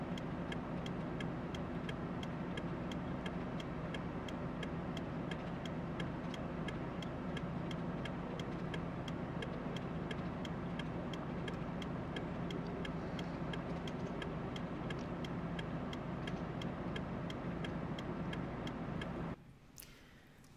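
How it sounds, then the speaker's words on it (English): A car's turn signal clicker ticks steadily and evenly all the way through, close by, over a dense steady background hum, then stops abruptly near the end. "No, that's the clicker on Kaustu's car"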